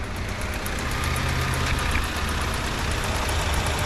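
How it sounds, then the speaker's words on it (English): A Hyundai or Kia car idles steadily in a repair shop while its air conditioning compressor engages, a continuous close low rumble with faint high ticking throughout. "Compressor just came on."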